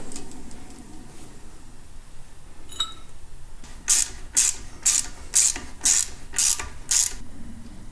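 A ratchet tightens a bearing cap on a Sterling rear differential of a Ford Super Duty, giving eight evenly spaced, crisp clicking strokes in a quiet garage after a faint clink.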